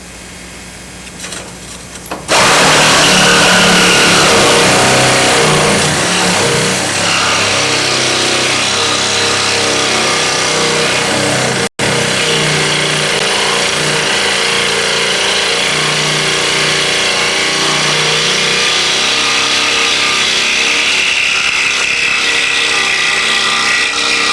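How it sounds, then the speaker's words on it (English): A power tool cutting through thick fiberglass about 12 plies deep on a canard or wing structure, starting abruptly after a quiet moment and then grinding loud and steady close by. "Now I'm cutting through much more glass, about 12 plies worth in this area."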